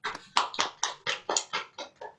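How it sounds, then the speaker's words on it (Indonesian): Applause at a university open doctoral examination, with a handful of distinct, evenly spaced claps, close and fairly soft, sounding like only a few people clapping. "Kita beri tepuk tangan."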